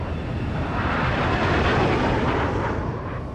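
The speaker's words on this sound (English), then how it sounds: "He calls up 2 F-16 fighters patrolling nearby." A pair of F-16 fighter jets flying overhead on patrol, producing a loud, steady broadband roar that holds for several seconds without a break.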